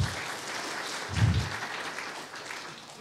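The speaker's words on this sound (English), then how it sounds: "you guys were really slow on the clapping cue on that one" Brief, modest burst of applause from a conference talk audience, a short scattered clapping swell that fades back into room noise within about a second.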